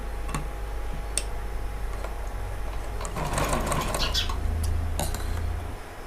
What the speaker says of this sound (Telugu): ఈ విధంగా ఇంకోవైపు కూడా మనం చీర అంచులను ఇలాగే కుట్టుకోవాలి.